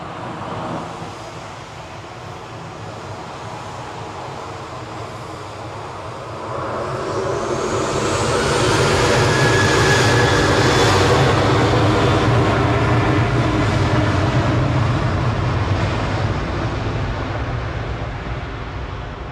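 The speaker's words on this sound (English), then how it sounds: "This is TAWG with flight 2668" A Boeing 737-800 airliner on flight 2668 to Palma de Mallorca passes, its jet engine rumble swelling from a moderate hum to a loud, sustained roar with a rising whine before easing slightly.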